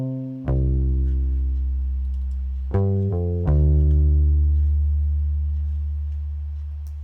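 Lo-fi hip hop bass line from a sampled Rickenbacker bass played palm-muted, a few deep, round sustained notes that start cleanly and slowly fade, alone with no other instruments.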